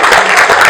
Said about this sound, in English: So, round of applause for great